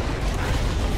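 Weapon fire in the video game Transistor makes a dense burst of rumbling, booming blasts that fills the whole second at steady loudness, with no talk over it.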